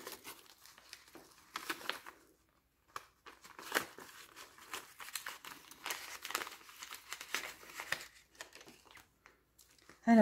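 Paper banknotes crinkle and rustle in close, irregular bursts as they are handled and slipped into cash budget envelopes, with brief pauses and a few sharper crumpling sounds.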